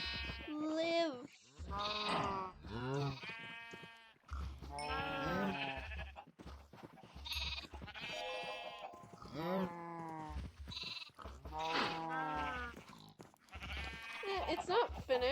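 Sheep bleating in the video game Minecraft, a series of wavering bleats following one another over fifteen seconds, fairly close and prominent with short gaps between calls.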